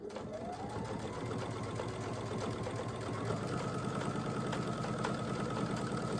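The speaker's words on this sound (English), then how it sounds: "So I'm going to take it to the sewing machine and I'm going to start stitching this binding down." A sewing machine stitches down quilt binding in a fast, even, continuous mechanical whir and patter, close and steady throughout with no talk.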